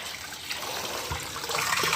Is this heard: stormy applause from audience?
no